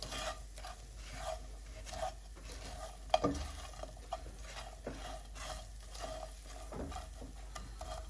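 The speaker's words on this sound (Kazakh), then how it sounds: "Бәрін бірге тағы да бір араластырамыз." A spoon scrapes and stirs repeatedly through a sizzling mixture seasoned with black pepper in a frying pan. The quiet rhythmic scraping runs over a soft, constant fry, with one sharper clack near the middle.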